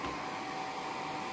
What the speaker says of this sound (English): dry with my hairdryer